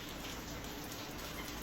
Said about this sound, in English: Boy, is it pouring here this morning.